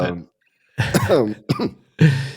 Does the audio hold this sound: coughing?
yes